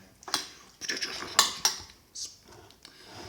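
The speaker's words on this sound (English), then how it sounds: "Stir that stuff a bit." Nacho ingredients are stirred in a baking dish with a metal utensil, producing several bright scraping clinks and taps, close and irregular, with faint talk in the background.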